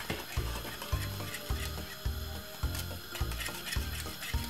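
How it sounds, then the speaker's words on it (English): A whisk beats milk into Jamaican green plantain porridge in a pot, making a steady, rhythmic scraping clatter about twice a second, fairly soft against a constant background. "Keep whisking it."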